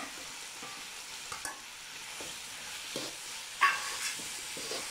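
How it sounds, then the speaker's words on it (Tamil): Green chilies fry in a pan while being stirred, giving a steady soft sizzle with scattered scraping and clinking from the utensil, close and moderately quiet, with no voices. "பச்சை மிளகா போட்டுக்கலாம்."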